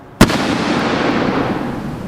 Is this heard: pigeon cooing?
no